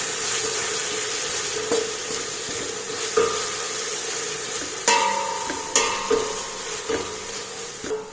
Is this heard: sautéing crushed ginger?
yes